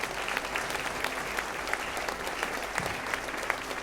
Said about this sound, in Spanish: Demos un aplauso grande al Señor esta mañana.